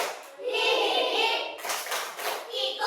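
Children clapping their hands in a group, a dense, continuous patter of claps for a few seconds, fairly loud and close, with some light voices mixed in.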